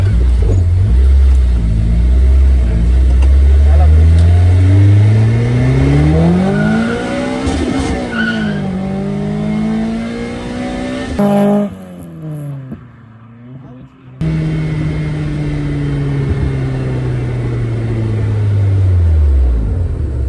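A VVL-powered Mazda 323 engine revs loud and close, pitch climbing and falling in long sweeps with a sharp drop-off near the middle, while voices talk over parts of it.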